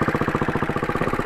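A Royal Enfield Classic 500 motorcycle idles nearby with its heavy engine, giving a loud, steady, rapid thumping beat throughout.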